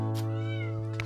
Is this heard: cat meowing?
yes